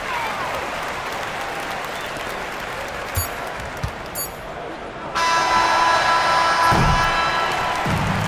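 Crowd cheering and applause fill a basketball arena in the NBA 2K25 video game, a steady roar of clapping that swells louder midway as a game ends, with faint thuds underneath.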